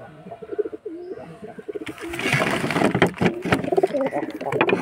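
Caged pigeons coo in low, repeated throaty calls nearby, then a burst of broader rustling and noise joins in with more cooing underneath.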